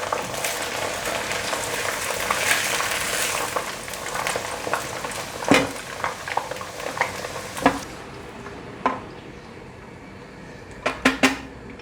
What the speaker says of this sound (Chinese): 继续让它炸。 我都会不定时的翻动，先让它炸一下，再来翻动。